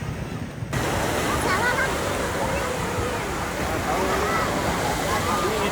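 Seawater washes over an Omani beach where people bathe, a loud, continuous rushing swash that starts abruptly after a quieter opening moment and carries faint distant voices under it.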